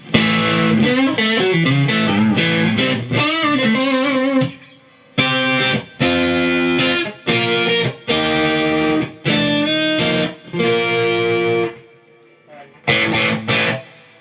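Distorted Fender Machete amplifier with electric guitar on the bridge pickup and boost, played in bursts of chords and riffs, loud and gritty, with short pauses between phrases and no talking.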